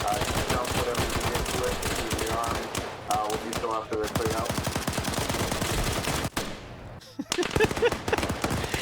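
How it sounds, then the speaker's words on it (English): Dense gunfire from the military shooter game Arma 3 fills the whole span, with rapid automatic bursts and overlapping shots that run almost continuously, loud and close, while voices talk over the top. "Just blindly firing guns at each other until one of us falls over."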